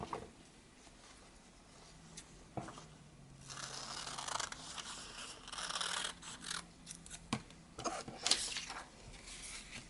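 Scissors snip through book page paper in a quiet room, a series of crisp close cuts with paper rustling and crinkling between them.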